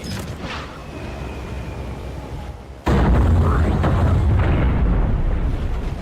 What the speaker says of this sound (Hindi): Bombs away. सीधे निशाने पे।